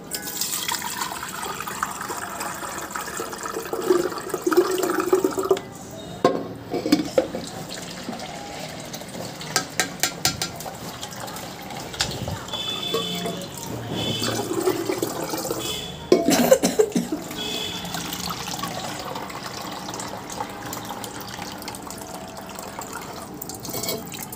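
Water poured into a container through a sieve, splashing and trickling in bursts with a few sharp clanks of vessels, and some background noise between pours.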